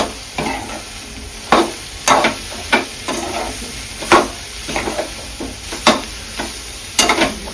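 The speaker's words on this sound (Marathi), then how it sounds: "जे सोयाबीन मी शिजवून व्यवस्थित स्वच्छ धुवून घेतलेले ते सुद्धा टाकून घेते ते सुद्धा परतून घेऊया" Boiled, rinsed soybeans are sautéed with masala in a pan: a constant close sizzle with repeated scraping strokes of a spatula at an irregular stirring rhythm.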